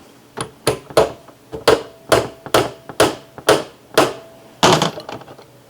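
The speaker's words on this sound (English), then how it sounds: "I'm going with a brass hammer because I don't want to damage the front of that" Sharp metallic taps from a brass hammer tapping a part into place on a table-top drill press, about ten blows at a steady pace, close and distinct.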